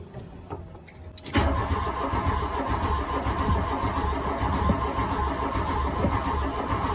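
A barn-find Volkswagen Golf MK1 GTI, fitted with a new distributor cap and rotor, is cranked over. After a quiet moment, a loud, continuous churning engine noise runs close by for over five seconds without catching.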